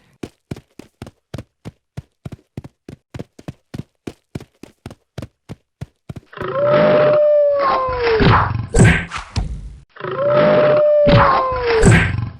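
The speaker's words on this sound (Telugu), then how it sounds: "సైతాను తోడేలు దగ్గరికి వెళ్ళి భీకర యుద్ధం చేసి దానిని చంపేస్తాయి." An animated story fight between a lion and a wolf, starting with rapid, sharp thudding hits. Two long, loud bursts of roaring and howling with growls follow, separated by a short gap.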